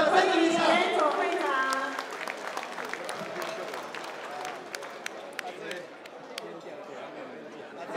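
Audience applause at a campaign thank-you tea party in Taipei follows a voice at the start, then continues as scattered, moderately loud clapping under crowd chatter and slowly fades.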